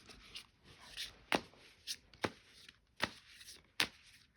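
An oracle card deck is shuffled and cut at close range, making soft rustling with a series of sharp, irregular card slaps and snaps over about four seconds. No one talks.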